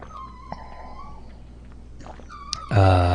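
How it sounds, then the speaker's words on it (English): A pet dog lets out odd, unusual whimpering and howl-like vocal sounds, with a sustained tone early on and a louder, strained burst near the end, close and alone. "That's a weird sound. My dog's never made that sound before."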